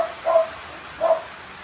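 A frightened dog gives two short barks or yips about a second apart during heavy rain, moderately close over a soft, steady background hiss.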